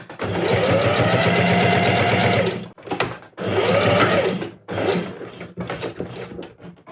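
A sewing machine stitches bias binding onto halterneck straps in loud, fast mechanical bursts, one long run followed by several shorter runs with brief pauses between them.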